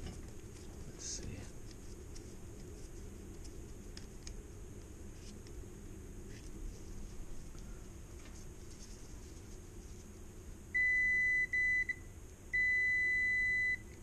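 A multimeter set to continuity beeps while testing an inline fuse on an HVAC fan coil unit, giving two short steady tones, one brief and one longer, over a quiet room background.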